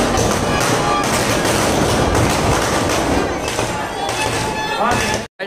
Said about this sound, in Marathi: इथे फटाक्यांची आतिषबाजी इथे जोरदार होत आहे